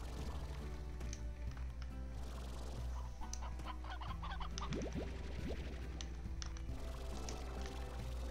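Chickens clucking in the video game Slime Rancher, several short soft clucks and squawks scattered over a steady low ambient game hum, fairly quiet.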